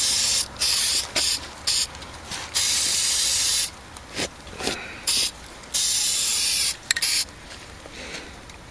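Bursts of hissing spray from an aerosol can of Fluid Film rust-proofing, repeated in short and longer blasts with brief pauses between them, close by.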